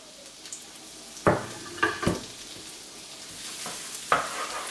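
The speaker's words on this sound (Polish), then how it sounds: "Zapach smażonego czosnku." Garlic fries in a pan with a steady soft sizzle, broken by a few louder scraping stirs of a utensil, close and quiet with no talking.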